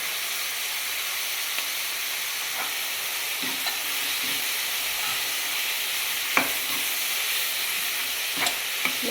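Capsicum, carrot and peas frying in a pan, with a steady hiss of sizzling oil and occasional scraping knocks from a stirring spoon; no voices.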